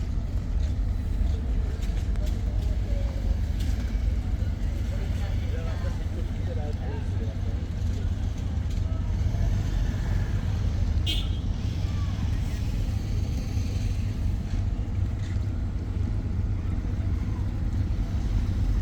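The passenger launch ship Kirtonkhola 10 turns on the river near a Barisal godown. Its engine gives a steady, loud low drone throughout while a voice talks over it.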